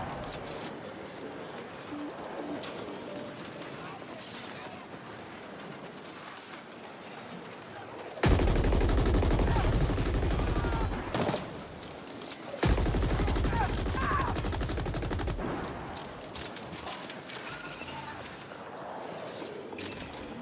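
Gunfire in the sci-fi shooter video game The Ascent, two loud sustained bursts of rapid automatic fire standing out over quieter game ambience and scattered shots.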